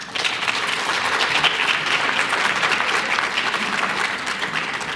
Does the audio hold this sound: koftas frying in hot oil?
no